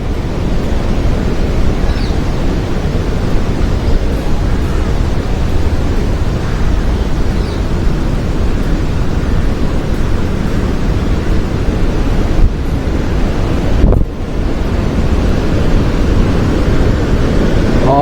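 Water rushing over an overflowing dam, a loud, continuous roar of broad noise with wind buffeting the microphone and a brief dip near the end, with no voices.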